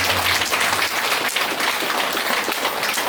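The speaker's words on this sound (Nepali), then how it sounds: "एकपटक बाँच्न पाएकोमा जोरदार तालीले आफैलाई" A Brahma Kumaris gathering celebrating Krishna Janmashtami breaks into hearty applause, a full, steady wash of many hands clapping throughout, with no voices on top.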